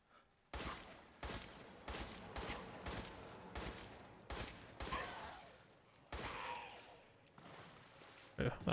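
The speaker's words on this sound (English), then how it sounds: "Ooh, that was some good shooting." Gunfire in Resident Evil Village, a string of sharp single shots fired at a steady pace, each ending in a short echoing tail, quiet overall with a louder pair of shots at the very end.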